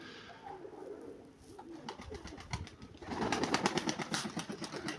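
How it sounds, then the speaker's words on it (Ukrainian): A pigeon coos close by, soft at first, then a run of rhythmic, throaty coos that grow louder toward the end. "А ось ця голубочка, яка зависає."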